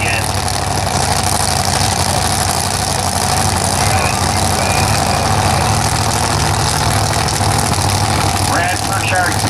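Heavy, steady engine rumble from a Mustang drag racing car at a drag strip, loud and continuous throughout, with a commentator's voice talking over it.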